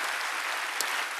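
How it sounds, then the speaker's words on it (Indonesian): A church congregation claps in praise during a worship service, a dense, steady round of applause close and loud throughout the brief moment. "Berikan tepuk tangan kita kepada Tuhan"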